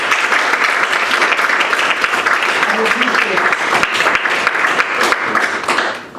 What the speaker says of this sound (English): We're applauding you in your service, not that you're leaving.